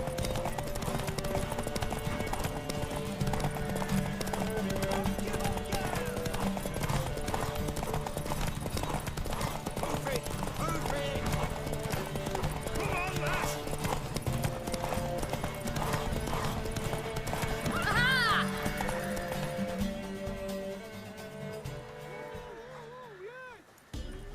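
Steady hoofbeats clip-clop throughout over a loud soundtrack from The Witcher 3: Wild Hunt, with a brief horse whinny near the end before things quiet down.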